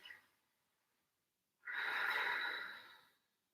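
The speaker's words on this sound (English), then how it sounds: "Deep breathing. Use the breath to open the body." Slow, deep breath drawn during a gentle post-run yoga stretch, a single long airy inhale-exhale lasting over a second, close and soft, following a brief faint breath at the start.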